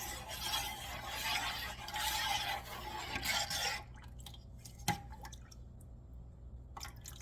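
A yarn dye pot with tobacco leaf is stirred, giving a soft liquid swish and slosh that fades to quiet drips and a single light knock.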